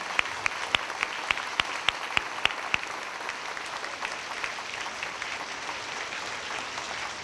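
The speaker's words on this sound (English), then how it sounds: "If we could have a round of applause for all of our Patriots of the month." Audience applause at an elementary school character ceremony, a steady wash of many hands clapping throughout, with a few sharp louder claps standing out near the start.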